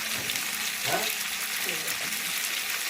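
Rohu fish pieces go into boiling curry in a pot, giving a steady, soft bubbling sizzle with a few faint splashes, running continuously beneath someone talking.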